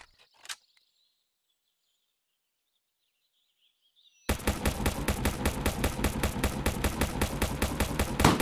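Rapid, loud automatic gunfire fires at an enemy in the mobile game Rocket Royale, a dense rhythmic burst of shots running continuously after a quiet pause with a brief chirp at the start.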